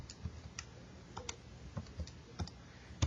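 Button presses on a graphing calculator while an equation is keyed in, a dozen or so sharp, close clicks at an uneven pace with quiet gaps between them and no voices.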